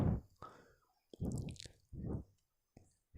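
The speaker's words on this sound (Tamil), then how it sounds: "அந்த மீனையும் எடுத்து மிக்ஸ் பண்ணணும்" Fish pieces being mixed by hand with spice masala for a crispy home-made fish fry, giving several separate wet squishing bursts with short quiet gaps between them, close and fairly soft.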